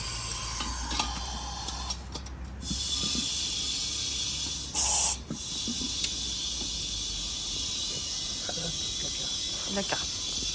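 Air hisses steadily out of a gas regulator fitted to a gas bottle, with a brief louder burst in the middle and faint clicks and handling noise over the continuous hiss.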